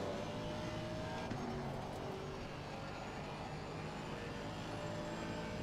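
A race car engine drones at Zandvoort in the sim racing game Assetto Corsa Competizione, a steady continuous engine tone held near the rev limiter, with no speech over it.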